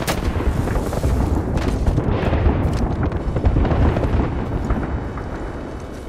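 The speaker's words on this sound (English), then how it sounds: "Throw my grenade out." A grenade explosion in Apex Legends booms loudly, followed by dense rumbling blast and battle noise that stays heavy and close throughout, with no talk.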